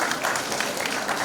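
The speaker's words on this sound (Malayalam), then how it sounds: "നിങ്ങളുടെ കയ്യടി" Brief burst of dense audience clapping at a higher secondary school Plus One admission festival, steady and close throughout with no pause.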